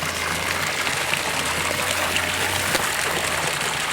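A 12,000 liter per hour pump pours water into a pond, making a steady, loud rushing splash that holds an even level throughout without pause.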